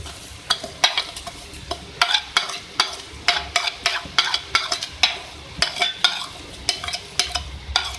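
Ghee-roasted vermicelli is stirred in boiled milk in a pot, with a spoon scraping and clicking against the pan in a regular rhythm of short, close strokes over a soft bubbling background.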